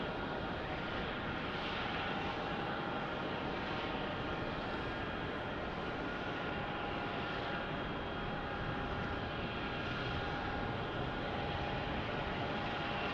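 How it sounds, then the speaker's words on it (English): Southwest Boeing 737-800 jet airplane at Phoenix Sky Harbor Airport: a continuous, even roar of jet engines with a steady tonal whine, moderately loud and unchanging throughout, with no voices. "Here's a Southwest 737-800."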